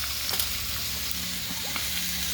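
Potatoes tossed with a little turmeric in a hot frying pan, a steady close sizzle with soft scraping stir strokes running through it, no talking.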